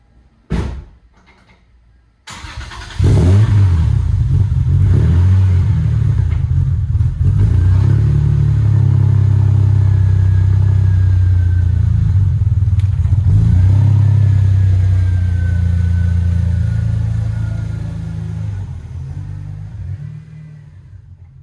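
A Lexus SC300 with an aftermarket exhaust revs repeatedly in a loud, sustained, throaty drone that rises and falls, then tapers off near the end, preceded by a couple of door-like thumps.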